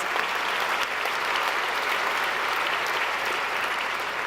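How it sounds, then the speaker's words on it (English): A gala audience claps steadily in a dense, even wash of applause that holds at a constant level throughout, with no voice over it. "let's give that one a big round of applause"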